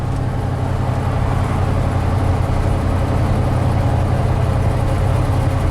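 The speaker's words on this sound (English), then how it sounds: "Oh God, listen to that engine." A car engine fitted with a freshly rebuilt Motorcraft 2100 carburetor runs steadily, a loud continuous low rumble heard from inside the vehicle with road noise and no talking.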